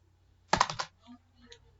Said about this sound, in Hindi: अब यहां पे हमें टाइप करना है